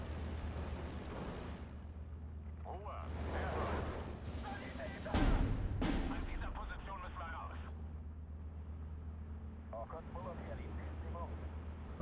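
Mortar fire in the World War II strategy game Steel Division 2, a few heavy booming impacts and sharp blasts over a constant low battlefield rumble, with a couple of louder bursts near the middle.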